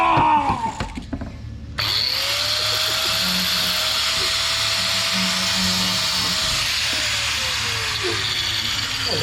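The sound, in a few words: grinder with plastic grinder blade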